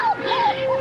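A young puppy whimpers in a few thin, wavering whines, close and fairly clear, with no talking over it.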